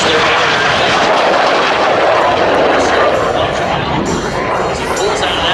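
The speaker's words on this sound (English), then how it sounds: "as he pulls out of that burner pass." A MiG-17 jet makes an afterburner fly-by at the Dayton airshow, a loud, continuous roar filling the whole stretch, with a commentator talking over it.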